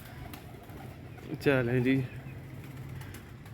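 Pigeons cooing at night during a capture, a short burst of coos rising over steady low background hum, with people talking nearby.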